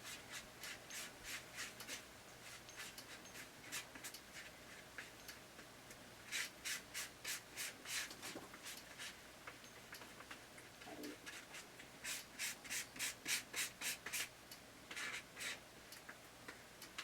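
A small palette knife scrapes and mixes paint with quick, rhythmic rasping strokes, close and fairly quiet, in repeated runs of several even scrapes with short breaks between them.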